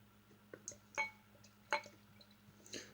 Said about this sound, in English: we will be pouring it into the Savages glass